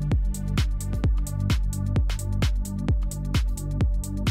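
A four-on-the-floor kick drum thumps steadily under a deep, growling Reese bass and a sustained synth pad, looping evenly with no voices.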